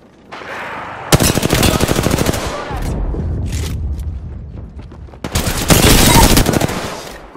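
Heavy gunfire in the Apex Legends video game, two long loud bursts of rapid automatic fire separated by a rumbling stretch, with faint game voices underneath.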